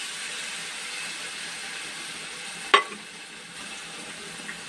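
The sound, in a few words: frying chicken korma with milk in a pan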